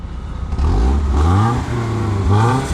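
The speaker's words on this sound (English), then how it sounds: "Give it a few revs." Up close, a BMW E30 engine revs hard twice, the pitch climbing and dropping with each throttle blip over a rough idle.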